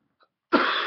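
A person coughing hard several times in quick succession, loud and close, after a brief silence, with no talk.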